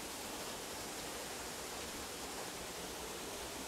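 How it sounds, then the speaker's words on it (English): Continuous broadband rushing of a waterfall in Saitama, Japan, a steady, even hiss with no talking. "I'm fairly certain that this is probably the third and final waterfall"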